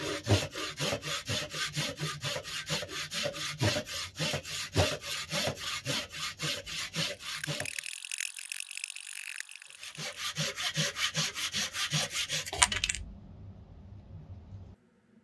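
A hand saw cuts thin slices off a cherry blossom wood branch, with steady rhythmic back-and-forth strokes close by, a brief pause partway through, then more strokes before stopping.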